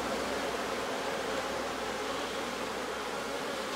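Honeybees swarm over an open hive during a brood check, a dense steady buzzing hum that stays close and even throughout with no talk over it.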